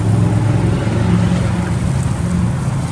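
A new Hyundai 30L-9A 6,000-pound pneumatic tire forklift drives nearby, its engine giving a loud, steady mid-pitched drone that holds constant without breaks or voices.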